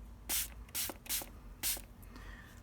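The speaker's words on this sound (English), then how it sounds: "I recommend you to spray the paper towel again" Four quick hissing bursts from a spray bottle onto a paper towel in an uneven rhythm, close and fairly soft, followed by a faint rustle.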